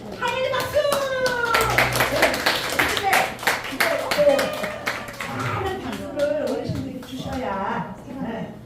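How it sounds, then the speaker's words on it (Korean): Welcoming applause from an audience of elderly listeners at a trot song performance, steady clapping that runs through the whole stretch under an MC's continuous talk and a sung or musical backing. "환영의 박수를 주시되"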